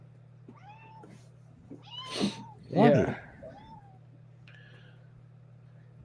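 A cat meows several times close by, rising and falling cries including one loud drawn-out wail, over a steady low hum, with a person briefly speaking.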